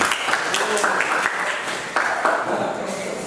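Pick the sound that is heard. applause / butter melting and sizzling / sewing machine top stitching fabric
applause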